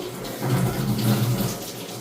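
Tap water gushes into bottles in a steady, close, rushing stream that lasts throughout with no talking.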